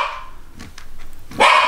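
A small dog barks loudly and close, a sharp bark after a few softer yips, with no talking.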